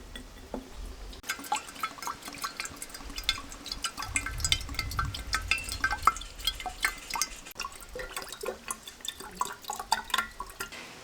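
Coconut water trickles and drips into a freshly opened coconut through a small hole, a soft irregular stream of splashes and droplets, close and quiet, with no talking.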